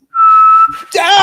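A single steady whistled tone, loud and close, held for about half a second and then cut off by a brief exclamation.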